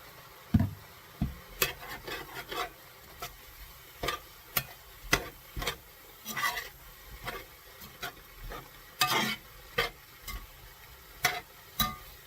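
Garlic fries in a pan for chili verde pork, with a soft steady sizzle under regular, sharp scraping strokes of a utensil stirring, repeating roughly every half second to second, close and fairly quiet, no talk.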